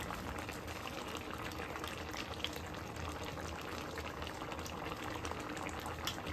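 Potatoes and bottle gourd bubble steadily in a covered pot, a constant, fairly quiet simmering hiss with a soft liquid churn that carries on without a break and with no voices.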